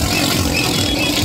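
Heavy truck traffic packed bumper to bumper on the road to Haridwar during the Dak Kanwar pilgrimage: a loud, continuous rumble of engines close by, with no gaps.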